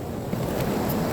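Sea waves washing up against a beach house send a steady, close roar of surf with wind buffeting across it, continuous and unbroken, with no voices.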